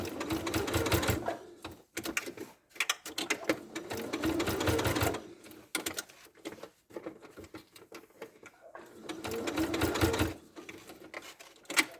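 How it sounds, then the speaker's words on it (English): A sewing machine runs in bursts while stitching fabric for a ladybird toy, fast rattling runs of stitches broken by short pauses, close and clear with no talk. "So I'm going to sew over the first few, and then on my machine I've got a locking stitch"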